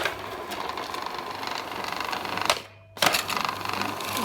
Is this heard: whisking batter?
yes